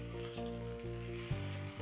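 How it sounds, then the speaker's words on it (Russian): Zucchini fritters frying in oil in a pan, giving a steady, fairly quiet sizzle and crackle with a faint hum under it and one small bump partway through. "Переворачиваем наши оладушки на другую сторону."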